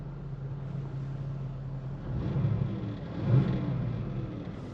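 A Range Rover Sport engine with new motor mounts idles smoothly, heard from inside the cabin as a low, steady rumble that swells slightly partway through, with no talking.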